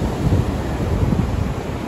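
Stormy sea at Sochi, with heavy waves surging and breaking close by in a continuous loud, rough roar mixed with wind buffeting the microphone.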